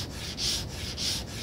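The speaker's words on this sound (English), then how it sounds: "Sanding the bottom of this with a piece of paper stuck to a flat surface is optional." Sandpaper stuck to a flat surface rubs against the bottom of a small turned wooden toothpick dispenser, two steady back-and-forth strokes giving a close, soft abrasive hiss.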